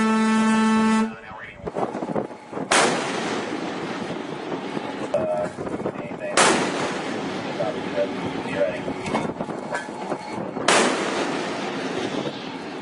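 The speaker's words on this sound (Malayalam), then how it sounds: "അതിനുശേഷം സെവറൽ ഷോട്ട്സ് ആണ് നടത്തിയിട്ടുള്ളത്." Warning and disabling shots fired at the Iranian cargo ship Motor vessel Tosca: three heavy, booming reports roughly four seconds apart, each cutting through a continuous rumbling background, with a brief tone at the start.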